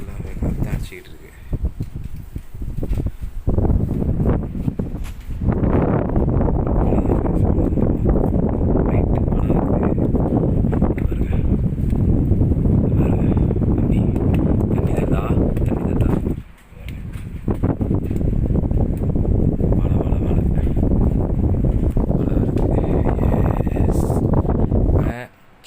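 Strong night wind roars and gusts around a recording phone, with someone talking over it, the rushing noise dropping briefly twice before surging back.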